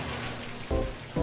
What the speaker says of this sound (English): It's raining outside, and it's really raining more than I want it to